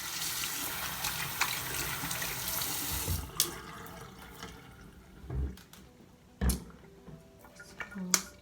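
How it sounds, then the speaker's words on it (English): Tap water runs steadily into a sink while hands are rinsed under it, with faint splashes and drips as the flow tapers off near the end. "I'm gonna rinse my hands."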